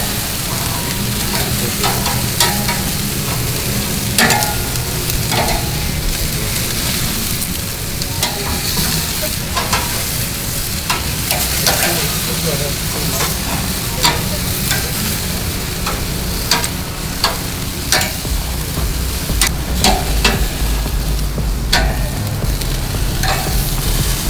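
Chicken wings sizzle steadily on a grill grate, a loud, dense crackling hiss with frequent small pops and snaps running unbroken throughout.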